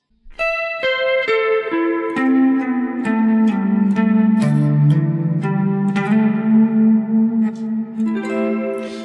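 An electric guitar plays a descending melody of sustained, ringing notes with heavy reverb and chorus-like effects, close and loud.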